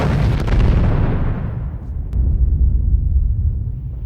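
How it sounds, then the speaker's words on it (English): A loud explosion in the science-fiction film Interstellar, at Dr. Mann's compound, a heavy booming burst with a sharp crack that rolls off into a deep, rumbling decay before a second low surge. "Dr. Brand, Cooper, there's been an explosion."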